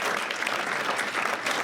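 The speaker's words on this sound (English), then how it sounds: "So how about a round of applause for Michael?" An audience at an annual spring business expo gives a round of applause for Michael. The clapping from the crowd is dense and steady, fairly close, and fills the whole moment without any speech over it.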